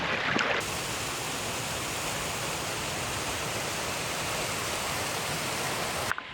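Steady broadband rush of water flowing over a stream crossing on a hiking track on the Coast to Coast Path near Grasmere, continuous and fairly close, with no voices over it.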